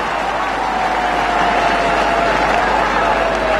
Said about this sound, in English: Crowd awake.